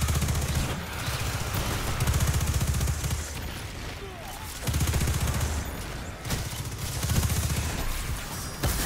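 Sustained automatic gunfire rattles in repeated bursts during the Crown of Sorrow raid in Destiny, separated by brief pauses and set against a dense, noisy game backdrop.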